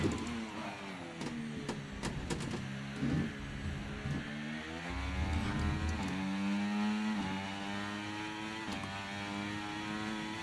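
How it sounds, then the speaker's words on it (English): Racing simulator rig in an F1 game session, its motor droning and rattling with a steady buzzy hum and revving tones as the car rides over curbs, fairly loud and continuous with no talk. "Yeah, that's the sound it makes from going over curbs."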